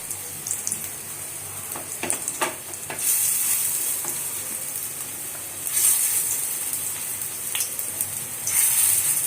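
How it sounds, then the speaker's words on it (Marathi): Veg kebabs dropped one by one into hot oil in a home kitchen, a bright hissing sizzle that swells in bursts as each piece goes in, with occasional clinks of utensils. "आता एक एक करून हे कबाब त्या तेलावर सोडूया."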